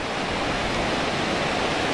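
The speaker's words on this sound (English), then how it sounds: "I love the ocean crackling away, waving and waving and waving" Ocean waves wash steadily beneath a mountain backdrop, a continuous broadband roar of surf with no distinct breaks, loud and constant throughout.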